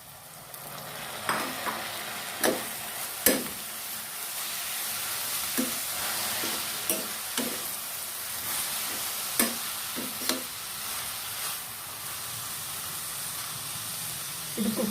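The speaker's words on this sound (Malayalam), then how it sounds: "ഇതിലേക്ക് നമുക്ക് ഗ്രീൻ ലീഫി വെജിറ്റബിൾ ആഡ് ചെയ്ത് കൊടുക്കാം." Green leafy vegetables cook in a pan with a constant soft sizzle and hiss, broken by repeated clacks of a utensil stirring and scraping at an irregular pace.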